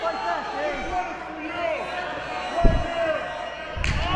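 A stiff wrestling chop lands with a sharp slap among thuds of a match, heard under an excited commentator's voice with crowd noise behind.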